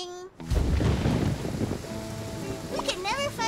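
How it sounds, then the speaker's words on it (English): Rain and a thunderstorm in a cartoon set in the woods: a loud rolling rumble breaks in, then settles into a steady wash of rain, with brief character voices at the start and near the end. "What's wrong with the rain?"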